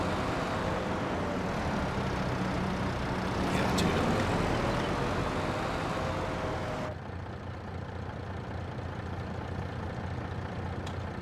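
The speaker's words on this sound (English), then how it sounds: "but we can hear the truck." Truck engine from a survival farming video game, a steady loud drone with broad low rumble throughout, briefly swelling around the fourth second and dropping slightly in level near the end.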